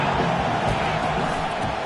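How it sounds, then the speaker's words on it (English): A college football stadium crowd roars in a steady, dense wall of noise on a third down during a BYU vs Nebraska game. "this crowd is tearing the lid off this place"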